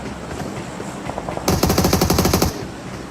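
Rapid automatic gunfire in a video game, a loud sustained burst of rattling shots lasting about a second, preceded by a few quieter shots and softer background game noise.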